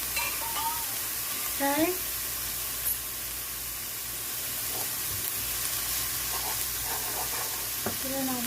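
About six to eight cloves of pressed garlic hit a hot frying pan with a steady, bright sizzle that fills the clip, and a voice speaks briefly over it.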